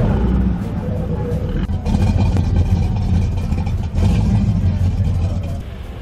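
The Knight Rider KITT car rolls past at an American car meet, a loud, continuous engine rumble with slight surges, close and dominant throughout, with people talking faintly in the background.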